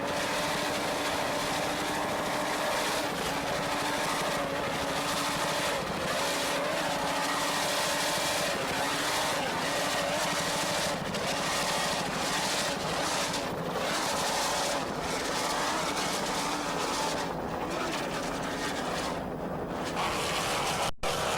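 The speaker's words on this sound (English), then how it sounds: "You can hear throttle man Herb Stotler there doing a fine job with those 900 horsepower Stotler engines." Loud, continuous roar of offshore racing powerboats with 900-horsepower Stotler engines at speed, with steady wind rush over the microphone and no talking.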